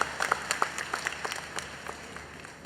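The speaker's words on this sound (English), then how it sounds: "A big round of applause for our council members and the O Week team." Scattered audience clapping at a university orientation week opening ceremony, individual claps distinct and moderately distant, gradually thinning out over a few seconds.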